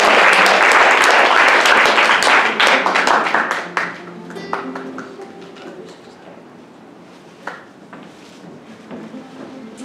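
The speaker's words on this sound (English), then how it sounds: "Do we have a round of applause for us?" Audience applause and clapping at a tenth-anniversary event, loud and dense for the first few seconds, then thinning to scattered claps and light crowd noise that fades and lingers quietly.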